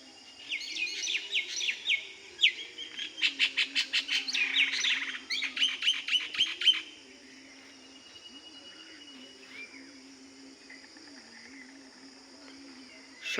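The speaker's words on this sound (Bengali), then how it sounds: "আপনারা শুনছেন পাখিদের কিচিরমিচির ডাক।" Morning birdsong with bursts of rapid chirps and trilling tweets for the first several seconds, then quieter scattered calls over a steady low hum.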